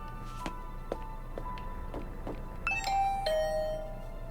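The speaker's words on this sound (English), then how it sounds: "I rang the doorbell and could hear the bell ring on the other side of the door" In the video game The Hundred Line: Last Defense Academy, a few light taps come first, then a doorbell chimes, its bright ding-dong tones ringing out and fading, fairly near and clear.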